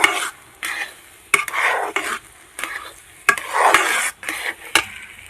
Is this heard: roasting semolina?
yes